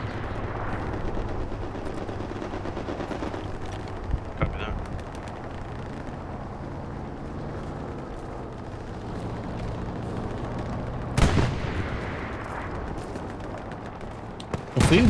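Battlefield gunfire in the World War II shooter Hell Let Loose, with a steady low rumble of distant combat and a few sharper nearby shots and bursts, one loud burst near the end, under occasional quiet talk.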